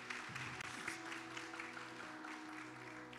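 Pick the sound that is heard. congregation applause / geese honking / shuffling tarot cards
congregation applause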